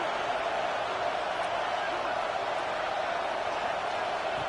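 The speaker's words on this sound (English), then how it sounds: "this crowd is fired up. Listen to this noise here." Roaring stadium crowd in a college football video game, Oklahoma versus Alabama, a dense steady wash of cheering and noise that stays loud and unbroken throughout.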